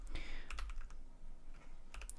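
Quick keystrokes on a computer keyboard during a Minecraft modpack gaming session, a few scattered clicks in small bursts, close and fairly quiet, with no one talking.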